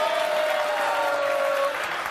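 A studio audience on a daytime talk show claps in a short, steady burst of broad, even noise with a faint held tone running through it.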